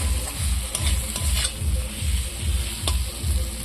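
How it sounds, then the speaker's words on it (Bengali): Cooked rice being stirred in a hot pan while making village-style prawn biryani, with rhythmic scraping strokes repeating about twice a second over a continuous loud sizzle, close up and without talk. "ভাতটাকেও চালিয়ে দিন"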